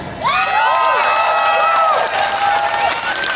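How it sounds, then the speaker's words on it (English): Applause and cheering from a crowd at a Jacksonville Unite Against Hate rally honoring a speaker, with whoops and shouting voices layered over steady clapping, loud and sustained throughout. "Let's give Marlo a round of applause"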